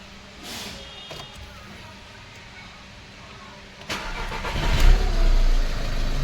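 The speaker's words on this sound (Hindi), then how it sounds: "अब गाड़ी स्टार्ट करते हैं।" A Volkswagen Polo 1.5 diesel car being started after a timing repair kit replacement: quiet clicks and whirs first, then the engine cranks and catches into a louder low rumble near the end.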